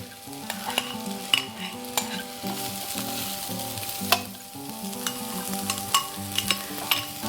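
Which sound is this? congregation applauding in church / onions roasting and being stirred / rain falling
onions roasting and being stirred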